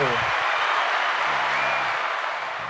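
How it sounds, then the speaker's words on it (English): A room full of people gives a steady round of applause and cheering, holding loud and dense throughout, with a voice briefly talking over it near the start and again midway. "Give me a round of applause, man."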